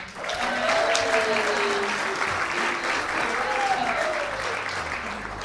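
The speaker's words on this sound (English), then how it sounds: "Big round of applause for Stephen." Audience applause at the close of a live business presentation, a full steady roar of many hands clapping that swells, holds and slowly thins, with a voice briefly speaking over it.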